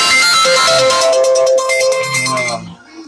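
A phone rings with an incoming call, a bright repeating ringtone melody playing loud and close for about two and a half seconds before cutting off, with no talking over it.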